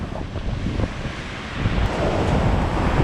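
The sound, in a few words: ocean waves breaking on island coast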